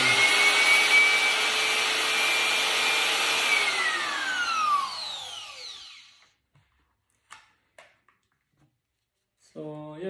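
Palm wood trimmer router switched on and running, a loud high-pitched motor whine that holds steady, then spins down and fades, followed by a few sharp clicks and handling knocks.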